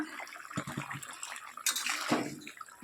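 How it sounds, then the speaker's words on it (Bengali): Fish curry with potatoes bubbling in a pot, a close, busy wash of sputtering and hissing liquid with a louder surge partway through. "আমার মাছের ঝালটা ফুটে এসছে দেখো"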